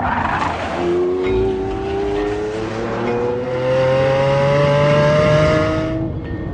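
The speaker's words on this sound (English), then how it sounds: "Lamborghini drives like a raging bull" A Lamborghini Aventador in a racing video game, a loud engine revving and climbing through the gears with tire squeal, close and continuous, cutting off abruptly at the end.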